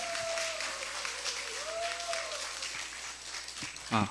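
An audience at a public redevelopment briefing for Gwangmyeong District 3 claps to welcome a speaker, a dense even patter of many hands that fills the room, with a voice carrying over it.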